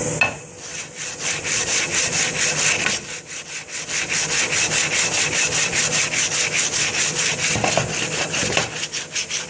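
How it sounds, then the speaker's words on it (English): Wet-and-dry sandpaper on a flat machine block rubs back and forth across a flywheel's crankshaft mating face, giving a steady run of close, rhythmic scratchy strokes with a brief pause near the start. "just use a bit of wet and dry. It's on a flat machine block."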